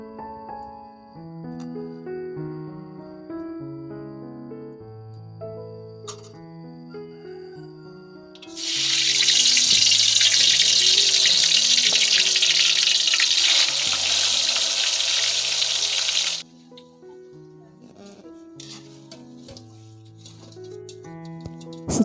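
Cold water pours from a kitchen tap into a container for soaking fried cassava, a loud steady rush lasting several seconds and set against background music, with no talking.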